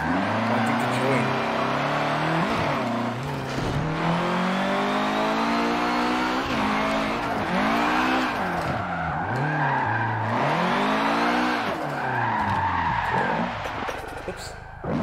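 A car engine in the Forza racing game revs and rises and falls repeatedly while drifting, with tire squeal and skids, loud and continuous, and a voice talks over it.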